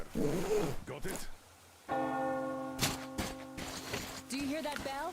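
A bell in the video game Metro Exodus tolls with a sustained, ringing tone that sounds partway through and lingers, with voices talking before and over it.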